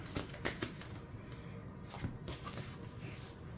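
Tarot cards shuffled and dealt for a reading, a steady papery rustle and riffle with a few sharper snaps of cards being drawn and laid down, close and fairly quiet with no speech.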